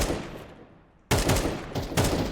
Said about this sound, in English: They're shooting a lot at walls.